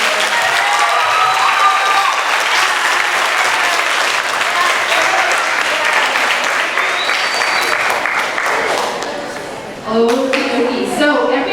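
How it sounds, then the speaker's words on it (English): Sustained applause from an audience at a grade 6 graduation ceremony, dense clapping that fades briefly before a voice speaks over the end. "Let's get a round of applause for all 6th graders graduating."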